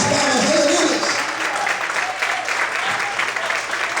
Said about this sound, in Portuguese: Mais forte as palmas, aleluia.